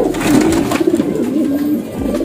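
Pigeons coo nearby in a loft, a low, steady, rolling call that carries through the whole short stretch with no talking.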